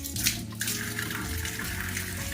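Water splashing and pouring onto a bathroom floor, a steady running wash with a brief louder splash near the start, close and continuous.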